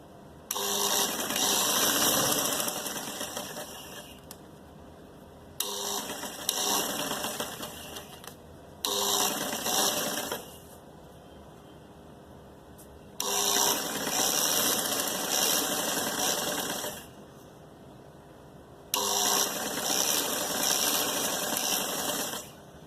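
Sewing machine stitching a folded one-inch sleeve hem on a kameez, running in four loud mechanical bursts of a few seconds each, separated by short quiet pauses, close and with no talk.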